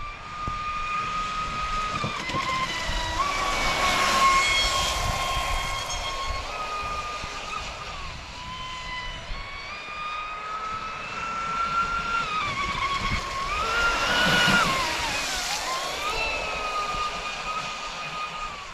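A Traxxas Spartan RC boat on a 6S setup screams across a pond at speed, a steady high-pitched electric motor whine rising and falling as it passes, loud and continuous with no talking.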